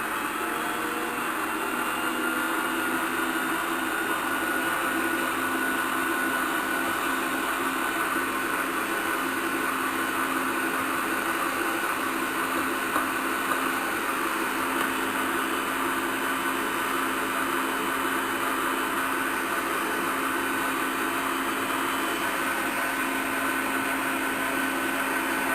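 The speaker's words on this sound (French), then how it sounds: "Et là, on mélange." Electric mixer whipping chocolate meringue mixture, a steady loud whirring motor drone with constant pitch lasting throughout, no talk over it.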